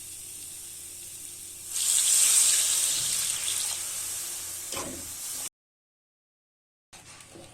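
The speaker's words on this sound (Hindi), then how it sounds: "अब हम डालेंगे 1 गिलास पानी।" A glass of water is poured into frying spices in a pan for soya kofta curry, a bright hissing sizzle rising sharply and fading over a few seconds before cutting to silence.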